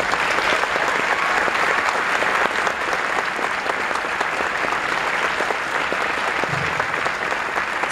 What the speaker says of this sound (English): Let's give them a round of applause for the graduating class of 2014.